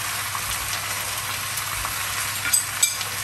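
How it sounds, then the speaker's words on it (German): Liver frying in a pan with onions and apples, a steady soft sizzle and crackle running throughout at low level, with a couple of sharper pops near the end. "Jetzt gebe ich ganz oben drauf noch die Leber wieder zurück in die Pfanne."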